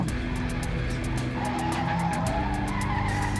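A car in the racing game Trackmania United Forever skids along a track, tires squealing over a steady, loud engine roar throughout, with no talk.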